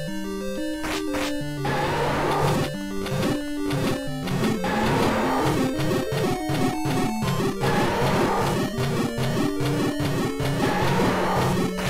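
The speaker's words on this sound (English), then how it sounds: "And that's the sound of Aquamentus." Loud, busy chiptune music from The Legend of Zelda on the NES during the Aquamentus boss fight in Dungeon Level 1, with steady melodic bleeps and tones running the full length and no talking.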